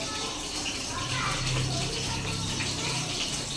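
Hot water pours and gushes into meat cooking in a pot over a clay stove, a steady splashing flow under nearby talk.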